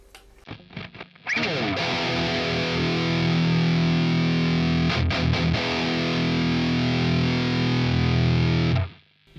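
Heavily distorted electric guitar chugging loudly through an amp plugin on its red channel, modern setting, thick sustained chords with a brief choppy break, then cutting off to near silence.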